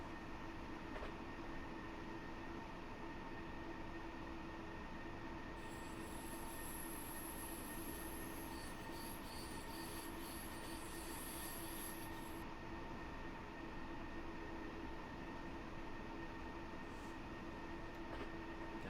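A simulated train on the Munich–Garmisch-Partenkirchen line rumbles steadily as it accelerates, a constant dense drone with a thin high whine rising midway and fading, no talk.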